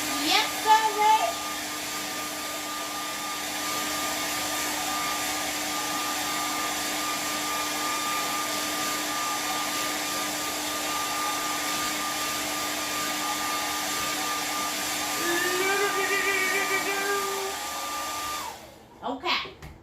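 A hair dryer blows steadily over wet paint on a canvas at a painting class, a loud continuous whir lasting about twenty seconds with a brief shift in pitch near the end before it cuts off abruptly.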